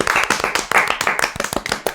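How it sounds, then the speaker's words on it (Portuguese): A small group of people on a podcast clap their hands in a quick burst of sharp, distinct claps that are close and loud and slightly out of sync, with no talking. "Palmas pra Bi."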